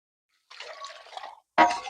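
Water poured by hand onto terrace garden plants, heard as two separate splashing pours: a longer, moderate one, then a short, louder burst after a brief pause.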